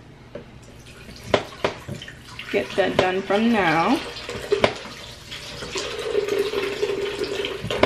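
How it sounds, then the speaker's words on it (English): Sixteen ounces of water runs and splashes into a blender cup close by, with a few clinks, while a person talks over it. "So I'm gonna go ahead and put 16 ounces of water."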